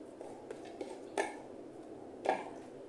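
A salad of tomato, green olives, arugula and parsley is tossed in a bowl, giving soft wet squishing under a steady low background, with two brief clinks of a utensil against the bowl.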